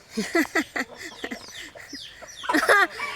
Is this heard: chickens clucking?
yes